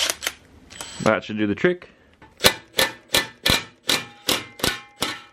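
An impact wrench set to maximum reverse torque hammers at a tie rod nut on a Subaru WRX, firing a steady series of about eight loud, evenly spaced rattling bursts after a brief clatter and a man's short remark.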